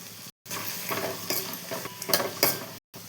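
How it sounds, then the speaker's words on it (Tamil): Tomatoes sautéing with garlic and turmeric in a pan give a steady sizzle with stirring scrapes. Brief silences open and close it, and the frying runs alone with no talk. "தக்காளி போட்டு நல்லா வதக்கிக்கலாம்"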